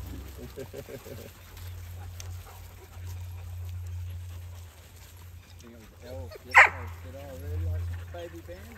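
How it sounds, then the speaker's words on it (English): A beagle bays and yelps in the background, faint and intermittent, beneath close panting and people talking, with a low steady rumble throughout. "baying in the background"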